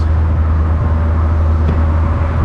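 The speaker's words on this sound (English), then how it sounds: "Like, I forgot how loud that car is." A 2018 Ford Mustang GT runs steadily nearby with a deep, loud, constant low rumble, no revving and no voices over it.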